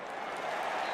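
A football stadium crowd at West Ham United against Bournemouth in the League Cup reacts to a long-range shot, a broad distant roar of many voices.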